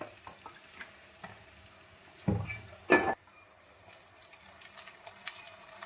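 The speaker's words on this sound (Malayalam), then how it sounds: "ഇഞ്ചി, വെളുത്തുള്ളി ഇതിൽ നല്ലോണം ഒന്ന് വഴറ്റണം." Ginger, garlic and green chillies are sautéed in oil for beef pickle, making a soft, low sizzle close by. Two short, louder scrapes of a spoon against the pan break in near the middle.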